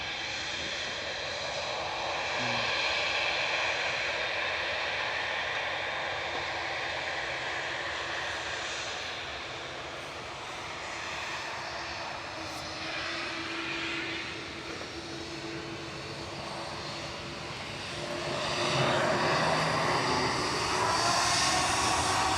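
An airliner departing Manchester Airport gives a sustained, rumbling engine roar that holds steady and then builds louder toward the end; distant-to-moderate and continuous, with no voices over it.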